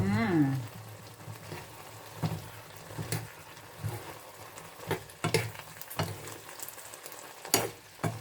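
Chicken and beans stir-fry in a pan with a continuous sizzle and repeated clanks and scrapes of stirring, close and fairly loud, with a brief murmur of voice at the start.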